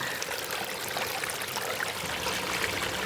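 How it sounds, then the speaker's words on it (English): Water from a pump rushing steadily through a Gold Hog multi sluice at a gold mine, a close, constant splashing hiss with no pauses. "I'm letting the sluice run for about a minute longer."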